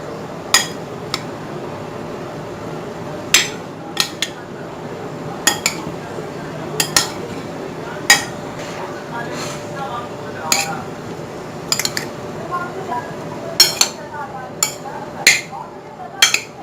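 Chickpea salad with mixed fruit and raisins being stirred in a bowl, a steady run of metal spoon clinks and taps against the dish at irregular intervals over a constant background hum.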